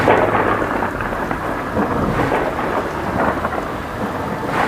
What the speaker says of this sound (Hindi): दूर कहीं बिजली कड़क रही थी।